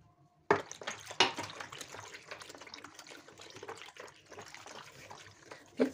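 A cup of vegetable oil poured into warm milk with dissolved sugar, heard as a steady close-up liquid pour lasting several seconds with no talking.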